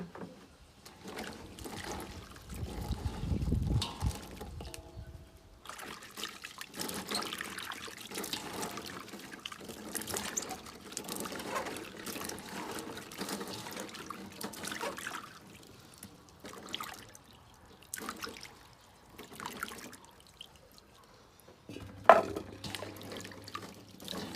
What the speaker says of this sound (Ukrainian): Промиваємо в теплій воді.